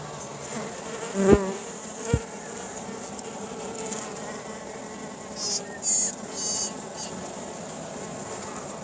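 Mason bees (Osmia) buzz around nesting tubes in a spring garden, several close buzzing passes and hums coming and going over a quiet outdoor background, with a couple of brief knocks early on.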